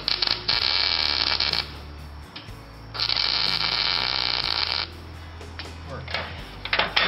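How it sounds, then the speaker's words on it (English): A trailer tongue jack is plug welded. Three bursts of crackling, hissing arc noise are separated by short pauses over a steady low electrical hum. "Step four, plug weld that damn thing."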